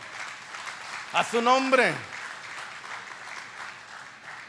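A church congregation claps together in a sustained round of applause that fills the room, with a preacher's voice rising briefly over the clapping.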